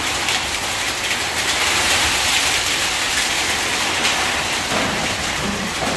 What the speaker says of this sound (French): Écoutez les tôles qui tremblent.